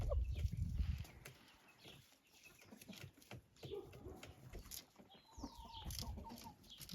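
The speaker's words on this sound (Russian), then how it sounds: "Вот они такие практически ручные куры, потому что они из-за своей прически видят только то, что у них под ногами." Crested chickens clucking softly nearby, scattered low clucks and a few short calls amid quiet rustling and a low thump at the start.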